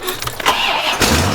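A Chevrolet Corvette engine cranks and fires up after sitting unstarted for about two months, settling into a loud, steady idle close by, with no talking.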